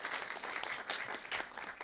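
An audience at a documentary Q&A claps, a dense patter of many hands that is steady and moderately loud throughout the short stretch.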